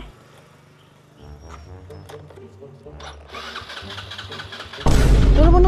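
A motorcycle engine failing to start: repeated cranking bursts with brief sputtering, ending in a loud rough roar of revving near the end, with a person talking over it.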